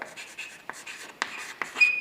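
A pen scratching out notes on paper during an English grammar note-making lesson, soft brief strokes with a few sharper taps, close and quiet.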